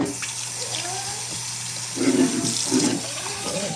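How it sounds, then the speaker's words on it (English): Tap water runs steadily into a sink, a continuous close splash that grows briefly louder in a couple of surges. "We add this water."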